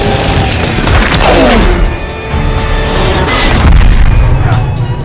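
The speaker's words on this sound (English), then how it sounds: "But soon after, the second wave of explosions followed." Explosions tear through an airliner in mid-air, a continuous loud roaring blast and rumble with crashing and booming layered throughout and no pause.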